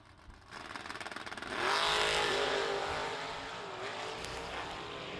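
A race car at a winter warm-up meeting approaches with a building engine whine, then blasts past close by in a loud surge that trails off as it continues down the track.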